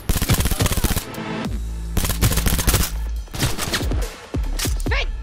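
Rapid bursts of automatic gunfire crackle loudly in the video game Cyberpunk 2077, volleys of close shots broken by brief pauses and heavy impacts across the firefight.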